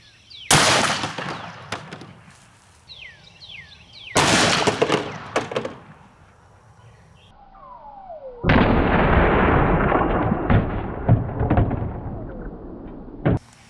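A .500 S&W Magnum revolver fires 700-grain hard cast rounds into ballistics gel, three loud, sharp blasts spaced several seconds apart, each booming outdoors and trailing off into a rumbling echo.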